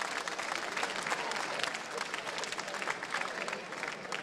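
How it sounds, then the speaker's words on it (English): A chapel crowd gives sustained, dense applause that stays loud and even throughout, with a few voices blending in. "Clap it up, clap it up."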